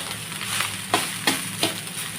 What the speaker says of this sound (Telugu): సాల్ట్ వేసుకొని మళ్ళీ ఒకసారి కలుపుకోవాలి.